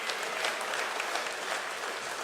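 Thin, scattered applause from a church congregation, a steady patter of clapping hands with no cheering, lasting a couple of seconds.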